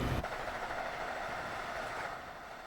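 A Boston Sprinter electric train runs in the Train Sim World 2 rush-hour simulation, giving a steady, fairly quiet broadband rumble and hum that carries on evenly throughout, with no talking.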